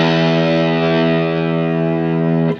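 A Squier Stratocaster electric guitar played through a Vox DA15 amp with distortion rings out one loud, sustained, gritty chord that holds for over two seconds before being cut off abruptly.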